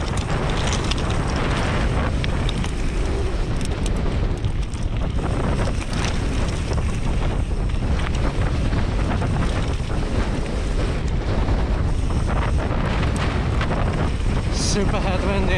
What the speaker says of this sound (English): Really wild because of the wind.